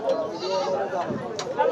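Goats at a rural livestock market, a couple of short bleats rising over someone talking nearby in a noisy outdoor setting.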